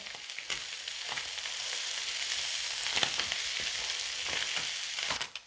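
Fish fries in a pan with crushed dried chili and curry leaves, a bright continuous sizzle with crackling pops and the occasional scrape of stirring throughout.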